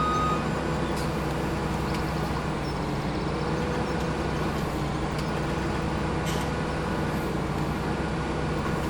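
A harvester in Farming Simulator 17 reversing, a large machine giving off steady reversing beeps over a constant low engine drone that stays loud and even throughout.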